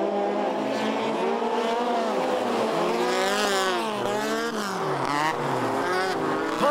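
Race cars in a G Series ice racing round, including a Proto, whine past on an ice track, engines rising and falling as they accelerate and slide, loud and continuous, with faint commentary underneath.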